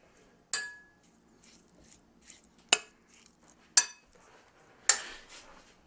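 Pepper seasoning being mixed in a bowl with a utensil, four sharp metallic clinks spaced a second or two apart over quiet softer scraping, close and alone.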